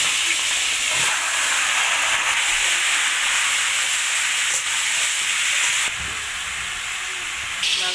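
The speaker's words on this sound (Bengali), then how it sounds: "এবার মাংসটা একটু ভেজে নেব।" Chicken pieces frying in oil in a pan over a home coal fire give a steady, dense sizzling hiss that carries on without a break for several seconds, with no voices.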